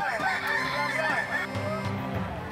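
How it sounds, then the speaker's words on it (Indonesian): A Kukuak Balenggek rooster, the endemic fowl of Solok, crows nearby in a long multi-stepped call with several rising and falling tonal segments, while a voice talks underneath. "berapa kali ayam-ayam balenggek ini berkokok dalam kurun waktu 15 menit"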